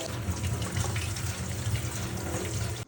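Cold tap water runs steadily into a sink as fiddlehead ferns are rinsed, a continuous close splashing rush with no break throughout.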